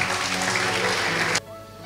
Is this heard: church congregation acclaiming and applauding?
yes